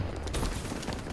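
Rapid automatic gunfire from the NX ShadowClaw weapon in Call of Duty: Black Ops III, a loud, dense burst lasting about a second with no voices.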